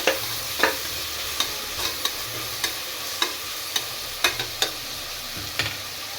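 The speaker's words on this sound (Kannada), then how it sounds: "ಟೊಮೊಟೊ ಹಾಕಿದಾದ್ಮೇಲೆ ಒಂದ್ಸಲ ಚೆನ್ನಾಗಿ ಮಿಕ್ಸ್ ಮಾಡ್ಕೊಬೇಕು" Tomatoes fry in a pan for egg biryani under a steady hiss of sizzling, with a series of light scraping taps from the stirring spoon at irregular short intervals. No voices.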